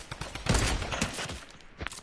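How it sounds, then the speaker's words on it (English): Semi-automatic sniper rifle fire in a shooter game, with a couple of sharp, loud shots standing alone with no talking, trailing into a brief echoing tail. "I literally hit a guy with a sniper"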